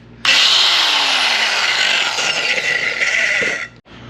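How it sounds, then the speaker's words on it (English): A battery-powered cutting tool bites into rusted studs on an old Subaru, whining loudly and continuously for about three seconds before abruptly cutting out. "I think I'm just gonna cut these two studs right here too"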